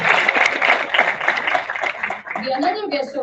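A conference audience gives a dense round of applause for a guest of honor, steady for about two seconds before thinning out as a voice starts speaking over the tail.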